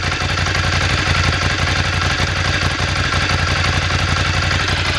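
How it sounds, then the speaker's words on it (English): Air-cooled V-twin of a Ducati Scrambler Desert Sled running through standard exhausts, a loud, steady, close idle with an even throbbing pulse throughout. "Considering they're not Kermies, they are standard exhausts, they've still got a really nice sound to them, you can probably hear."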